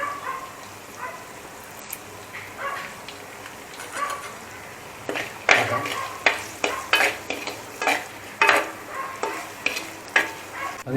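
A pan of fish curry masala with curry leaves being stirred over heat, a steady sizzle broken by repeated scraping strokes that grow louder and more regular in the second half, with a dog barking faintly in the background.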